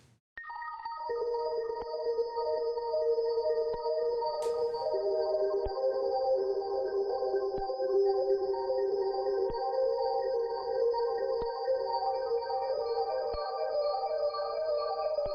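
A lofi arpeggiated synth made in FL Studio, run through Decimort bitcrushing and Gross Beat halftime: bright sustained tones layered over a steady pulse of soft ticks, playing alone and evenly for the whole stretch.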